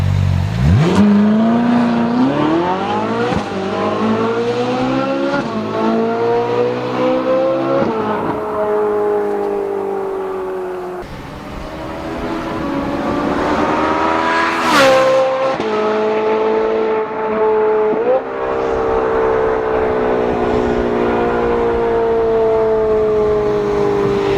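A Ferrari 458 Spider's engine revs hard and drives, with gear-linked pitch climbs rising and dropping, loud and close throughout, with one brief sharp peak midway.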